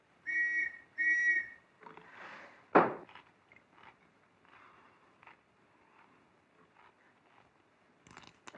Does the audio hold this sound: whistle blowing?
yes